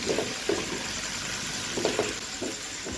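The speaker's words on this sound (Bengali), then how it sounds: "এরপরে আবার ঢাকনা দিয়ে একদম সেদ্ধ হয়ে আসা অবধি এটাকে ভেজে নেব" Snake gourd (chichinga) fries in a pan with a constant hissing sizzle. Soft knocks and stirring bumps sound at intervals over it, and no one speaks.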